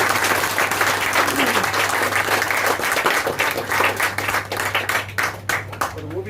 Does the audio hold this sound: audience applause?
yes